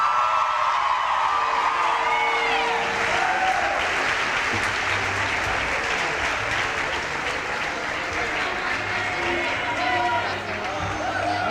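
Long, loud applause from an awards audience with scattered cheers and whoops, steady throughout and holding strong to the end.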